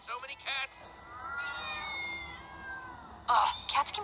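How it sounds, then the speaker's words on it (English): Several cats in Minecraft Story Mode meow over one another in a game scene: short mews up front, then a long drawn-out yowl, and a burst of overlapping meows at the end, with a voice talking in between. "So many cats!"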